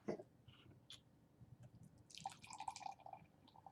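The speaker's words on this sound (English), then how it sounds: "let's go ahead and just crack it open, give it a pour" Carling Black Label beer pours and splashes into a glass, a quiet trickle that builds into a brief fizzy gurgle, close by.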